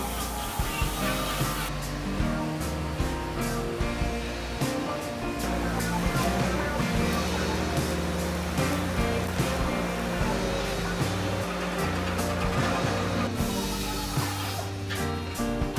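Cast iron being arc welded with Nomacast rods after preheating: a steady, dense crackle with a low electrical hum runs for about sixteen seconds without a break, and no one speaks.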